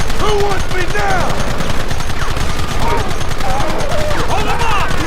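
Gunfire in the video game Red Dead Redemption: rapid, dense volleys of shots crackle continuously and loudly, close up, mixed with shouting voices.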